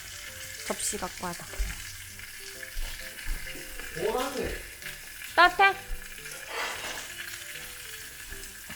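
Meat sizzling as it grills in a home fireplace, a soft continuous crackle and hiss beneath scattered clinks and handling noises, while people chat casually over it.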